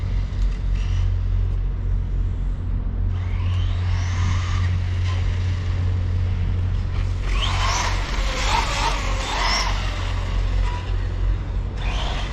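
A Traxxas-style TT Pro RC car runs on 3S power around a back parking lot after work, with its motor whine rising and falling in bursts over steady low rumble and background traffic noise.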